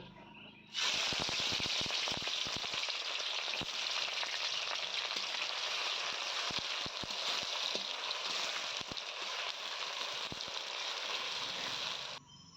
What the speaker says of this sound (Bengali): তো এখন হচ্ছে চিকেন রান্না করব